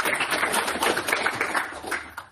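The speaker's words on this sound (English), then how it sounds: "Let's give them all a round of applause." A conference audience at a data summit applauds. Thick, continuous clapping fills the room for a couple of seconds and thins slightly at the end.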